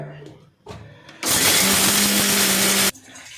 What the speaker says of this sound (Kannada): ಮತ್ತೆ ಮಿಕ್ಸಿಗೆ ಹಾಕೋತಾ ಇದ್ದೀವಿ